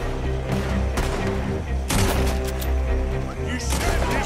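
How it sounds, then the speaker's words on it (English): Gunfire in the video game Red Dead Redemption 2, a few loud sharp shots bursting over a dense, constant bed of game music and ambience, with several spaced reports through the clip. "Just one shot and they're dead."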